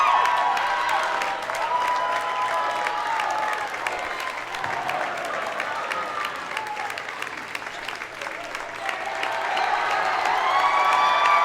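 Applause and cheering from a gym crowd after a high school district volleyball final win, sustained clapping with shouts and whoops, dipping briefly midway and then rising loud again toward the end.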